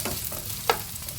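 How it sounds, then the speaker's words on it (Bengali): Bitter gourd fries in a pan with a soft, continuous sizzle and one sharp utensil tap partway through, brief and fairly quiet. "উচ্ছেগুলো এর মধ্যে দিয়ে দেব। উচ্ছেগুলো এভাবে ভেজে নেব।"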